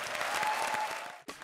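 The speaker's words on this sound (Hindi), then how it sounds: "जोरदार तालियां." Studio audience applause on an Indian comedy show (Comedy Circus Ka Naya Daur), a loud, dense burst that fills the space before cutting off abruptly near the end, followed by a brief return.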